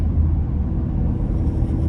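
A 2023 Maserati Grecale Modena engine revs hard with a deep, loud rumble, pulling steadily as it accelerates through 8-speed paddle shifts.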